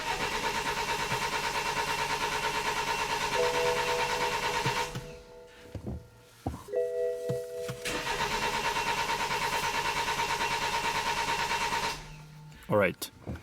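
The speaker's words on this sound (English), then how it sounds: "As you can hear, the engine doesn't start" A BMW X3 starter cranks in a long, steady, rapid churn without the engine catching. The cranking stops briefly and then resumes for a second long attempt, which also fails, followed by a few clunks and clicks.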